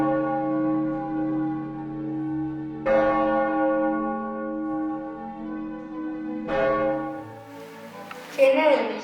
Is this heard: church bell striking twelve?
yes